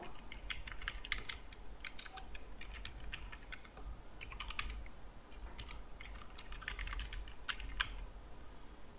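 Keys tapping on a computer keyboard while a signature name is typed, in quick bursts of clicks separated by short pauses, close and fairly quiet with no talking.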